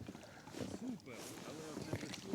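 A small boat rowed across open water on a perch-fishing trip, with soft, steady paddle and water sounds mixed with wind and low murmuring voices throughout.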